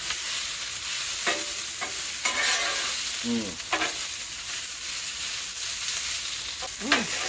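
Vegetables, including onions, sizzle loudly on a hot 22-inch Blackstone griddle, a constant crackling hiss with occasional scraping stirs.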